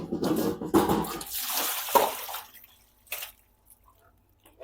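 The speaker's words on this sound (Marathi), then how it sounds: "इथं बकेट भरली आता फक्त." Water running into a bucket at a village home, an uneven splashing pour that comes in bursts and fades to quiet drips near the end, close and without talk.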